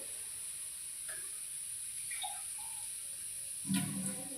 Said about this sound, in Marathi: शिजण्यापुरती मी थोडंसं पाणी टाकते बटाटा शिजण्यासाठी